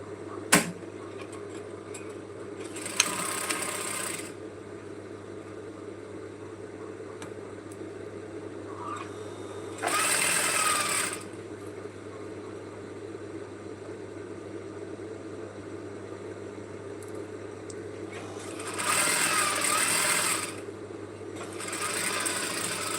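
Sewing machine stitching a 1-inch side seam on a simple A-line dress: three separate bursts of steady mechanical whirring, each lasting about a second or two, set apart by long quiet stretches over a low constant hum.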